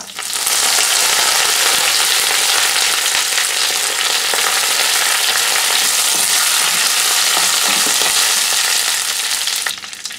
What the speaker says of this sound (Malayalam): ഇനി ഇതിലേക്ക് കുറച്ച് കറിവേപ്പില ഇട്ട് കൊടുക്കുക